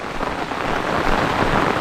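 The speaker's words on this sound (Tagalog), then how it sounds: "Ang lakas ng ulan ngayon mga kaprobinsya." Heavy rain pours down continuously in a dense, loud hiss with no pauses.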